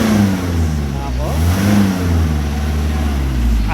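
Car engine revved hard during a roadside smoke belching emissions test, a loud sustained roar rising and falling in pitch close by, with people talking over it.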